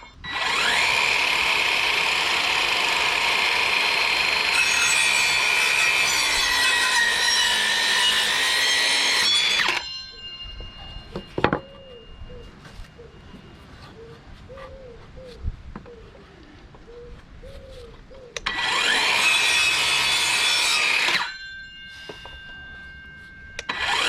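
Treated timber pieces for a patio are cut freehand with a handsaw in two long bursts of loud, rhythmic rasping strokes, with a quieter gap between them where birds coo and chirp outdoors.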